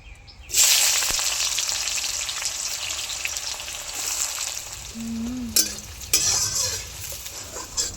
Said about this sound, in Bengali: এবার পেঁয়াজটাকে ভালো করে ছাঁকা তেলে ভেজে নিই।